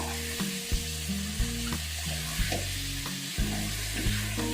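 Raw mango sour-sweet-spicy pickle is stirred in a hot pan with a soft continuous sizzle and a few light utensil knocks, while background music plays over it.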